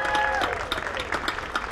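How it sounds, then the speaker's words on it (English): Crowd applause at an outdoor Puerto Rican flag raising ceremony in Paterson, a dense steady patter of many hands, moderately loud, with a voice briefly audible over it at the start. "can everybody just give her a round of applause for her time to spend?"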